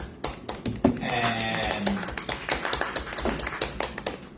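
Applause from a seminar audience for the speaker, dense steady clapping from a modest crowd lasting several seconds while a voice talks over it.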